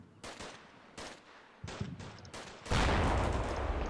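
Mortar rounds landing in the wargame Combat Mission Shock Force 2, several separate sharp blasts a second or so apart, then a heavier sustained rumble of explosions and gunfire building toward the end, with no one speaking.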